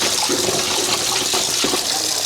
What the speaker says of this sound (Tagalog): Yung lakas ng tubig ah.